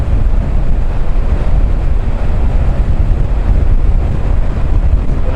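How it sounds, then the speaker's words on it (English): Heavy, continuous wind rush roars against the microphone while riding in cold air at 28–29 degrees near a tunnel, a dense unbroken blast with no voices. "I feel like a cold wind blowing into my face"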